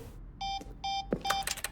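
Electronic beeps in the video game The Stanley Parable: three steady tonal beeps in a row, each about a quarter second long, followed by a brief burst of clicky electronic noise.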